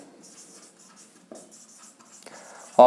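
A marker or chalk scratches across a board during a probability lesson, heard as soft, close strokes that end in a louder burst at the finish.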